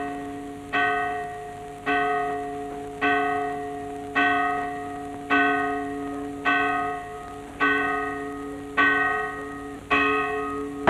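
Church bells toll for a dawn mass in a classic Mexican film. Nine evenly spaced, resonant strikes ring out alone, and each one decays before the next.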